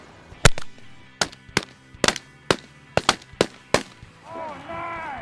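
Shotgun blasts during a youth waterfowl hunt: about eight sharp, loud reports in an uneven volley, followed by excited voices at the end.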